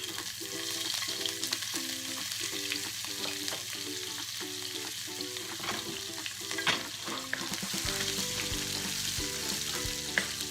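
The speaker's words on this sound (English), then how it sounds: "I want to fry my masalas and everything that I add into this on low before I add the arvi" Ginger and masala spices fry in a pan on low heat, a steady close sizzle with repeated stirring scrapes and clinks running through it, with no one talking.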